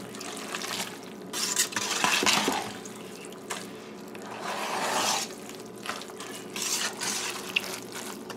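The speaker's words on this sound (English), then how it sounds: "So now we're gonna add this mixture to the macaroni here" Macaroni pie mixture being stirred into macaroni in a pot, soft wet squelching and scraping strokes repeating unevenly, close and fairly quiet.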